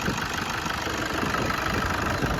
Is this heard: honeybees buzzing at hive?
no